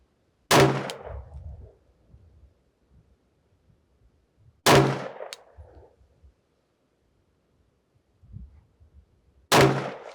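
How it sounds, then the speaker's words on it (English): Three sharp 9mm pistol shots spaced several seconds apart at an outdoor shooting range, each loud, close and abrupt with a short ringing decay, quiet between them. "I'll fire a few more rounds just to have confidence in it"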